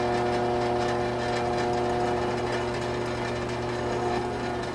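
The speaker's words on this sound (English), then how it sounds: "And now I'll drill this out to the final side." A drill boring out a pipe cap to make a filter, a loud steady motor whine with a continuous grinding hum throughout, no talk.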